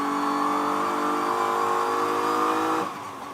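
A BMW GT race car at Sonoma Raceway during a GT World Challenge America race, a loud close engine note holding high then dropping sharply near the end as it downshifts, with no talking.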